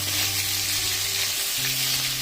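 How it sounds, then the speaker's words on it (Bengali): Salt-and-turmeric koi fish sizzle hard in hot mustard oil as they are flipped in the pan, a loud unbroken crackle heard up close. "মাছগুলো একটু উল্টে পাল্টে ভেজে নিচ্ছি।"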